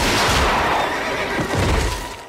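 A horse gives a loud, close whinny that runs for about two seconds before fading, standing alone without any voices.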